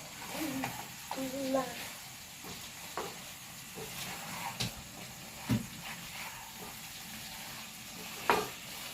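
Masala is stirred into chicken in a hot pan, with a low sizzle and hiss broken by scattered scrapes and knocks of a spoon. A voice is heard faintly at times.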